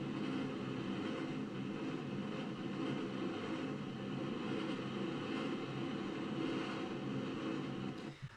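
An EHang aerial vehicle flies in a played-back recording, giving a steady, droning whir with a broad rotor hum that holds at constant loudness throughout, with no talking.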